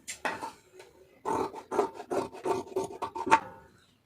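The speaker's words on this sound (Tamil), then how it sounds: "இப்போ எக்ஸ்ட்ரா இருக்கிறத அப்படியே கட் பண்ணிடுவோம்" Scissors snip through blouse lining fabric in a quick series of close, dry rasping cuts of uneven length, heard alone in a quiet room.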